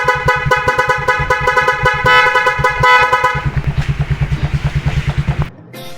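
A newly installed Nhay 3 Pro eight-sound car horn blares in a rapid, rhythmic series of loud, close tooting blasts, switching tone patterns partway through before cutting off abruptly.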